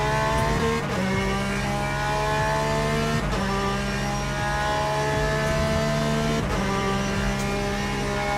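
A Bentley race car in the Le Mans Ultimate racing game roars steadily at high revs, with sharp gear shifts at regular intervals and no talk over it.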